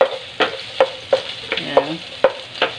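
Garlic, onion and ginger are frying in a pan: a soft background sizzle under regular stirring scrapes that fall roughly every third of a second, close by.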